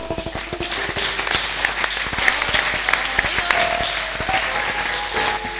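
A church congregation claps and applauds, a dense continuous patter of many hands at moderate distance, steady throughout with a voice occasionally rising over it.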